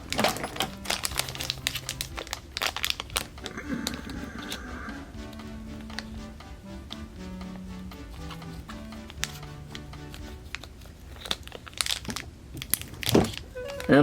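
Scissors snip and slice through crinkly plastic packaging during an ice cream factory toy unboxing, giving irregular close crackles, rustles and clicks alongside brief low vocal hums.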